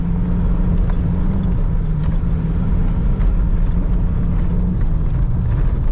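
A Cummins 2.8 diesel engine with freshly fixed injectors runs in a Tunland pickup, a loud, steady low drone with a constant rumbling texture throughout and no talk.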